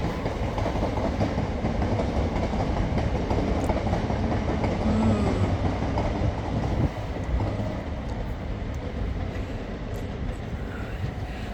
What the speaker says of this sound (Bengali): এখান থেকে ওই যে নিচে ট্রেন যাচ্ছে